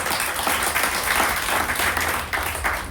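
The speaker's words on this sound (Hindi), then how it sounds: "एक जोरदार ताली दीजिए" An audience at a DXN motivational seminar applauding loudly, dense, sustained clapping from a large crowd that runs on without a break.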